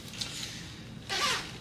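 A zipper is pulled along a pocket of a Tumi Alpha 3 Continental Dual Access carry-on suitcase, with a short faint rasp followed by a louder, longer close-up zip.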